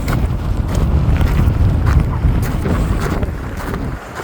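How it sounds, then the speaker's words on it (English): Strong wind gusts across a campsite at the edge of the Grand Canyon, a continuous low rushing roar buffeting the microphone for the whole stretch. "It's windy."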